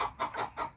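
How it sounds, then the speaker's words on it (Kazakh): A black chicken clucking while being fed, three short close clucks in quick succession, moderately loud with nothing else around them. "Қара тауық."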